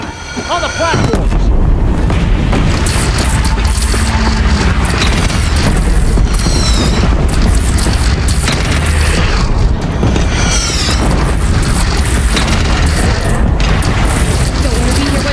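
Cannon fire in Horizon Zero Dawn, repeated booming blasts and mechanical clatter in a loud, dense battle mix, with voices talking over the action throughout.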